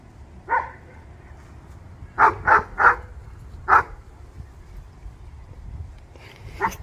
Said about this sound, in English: This dog needs to chill out,